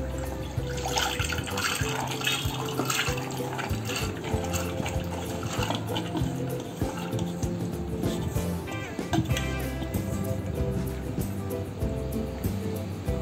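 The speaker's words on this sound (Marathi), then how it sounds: "डाळीमध्ये अगदी थोडंसंच पाणी आपल्याला डाळीच्या वरती घालायचं आहे" Water pours steadily, splashing and trickling continuously onto lentils in a pressure cooker, with faint kitchen clatter.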